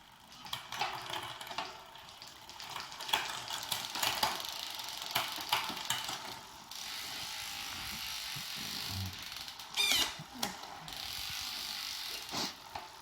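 Shimano Dura-Ace 9100/9150 and Ultegra 8000/8050 bicycle derailleurs shifting across a Rotor 3D Plus crankset with 46-34 chainrings and an 11-32 cassette, giving close mechanical clicks and ratcheting over steady drivetrain whir.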